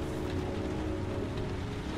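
Steady rain falling in the video game Heavy Rain, a dense, even hiss of drops on surfaces that holds at the same level throughout.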